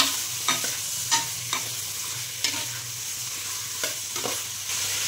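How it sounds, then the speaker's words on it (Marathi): Vegetables sautéed on high gas heat for a village-style mutton curry: a steady bright sizzle broken by about eight spaced scraping strokes of a spatula, close and with no voices. "भाजी पण 5 मिनिटं छान परतून घ्यायची, 5 ते 10 मिनिटं। गॅस मोठाच ठेवायचा आहे भाजी परतताना।"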